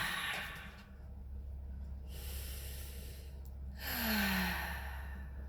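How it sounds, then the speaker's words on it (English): Several slow, deep breaths taken during a calm guided grounding meditation, soft airy inhales and exhales with a low hum underneath, close and quiet with no talking. "placing a hand on our hearts and taking a few deep breaths"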